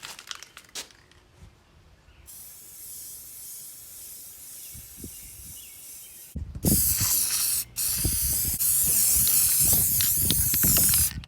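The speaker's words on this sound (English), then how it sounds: "you basically spray the contact cement on both sides, let it tack up for a little bit" Contact cement sprays from an aerosol can in short hissing bursts, faint at first and then loud, close, sustained blasts with a brief pause between them, with light rustling in the quieter opening.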